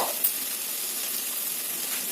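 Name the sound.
bottle gourd and sprouted chickpeas frying in a pan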